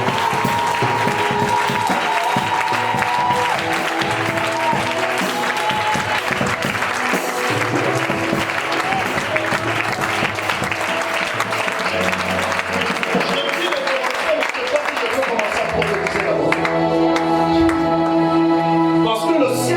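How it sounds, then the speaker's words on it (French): A church congregation gives loud, sustained applause and cheering throughout, with a crowd roar and clapping over music and voices. "donne une acclamation digne de ce nom"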